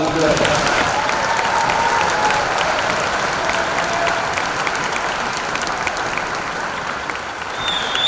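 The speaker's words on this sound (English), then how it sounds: "Let's give them all a round of applause." Sustained crowd applause for the graduating class of 2025 at a high school commencement ceremony, a broad continuous roar of clapping from a large audience, with faint voices mixed in.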